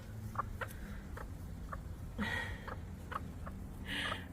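Backyard chickens in a subtropical Brisbane garden cluck softly and intermittently, with a few short calls spread out over quiet outdoor background.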